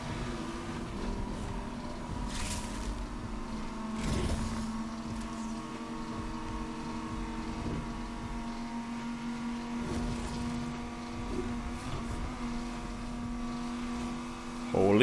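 A Chevy Colorado ZR2 mid-size off-road truck launches hard in Need for Speed, its engine droning steadily with harmonic revving across gear changes, loud and continuous under faint game background.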